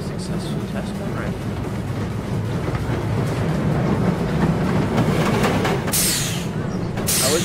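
A roller coaster train running in the NoLimits2 simulator game, a continuous rumbling, rattling roll that stays loud throughout and ends in a few sharp hissing bursts near the end.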